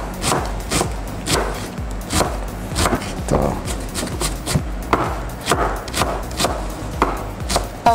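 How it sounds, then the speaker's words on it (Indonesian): An onion being chopped with a knife on a board, a brisk irregular run of close, crisp thuds continuing throughout. "Sambil nunggu ini panas, Chef Chandra lagi memotong-motong bawang bombay"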